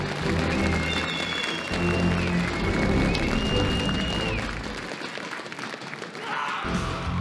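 Loud applause from a crowd at a cosplay contest, steady clapping that swells and then thins out, with a high whistle-like tone drifting over it.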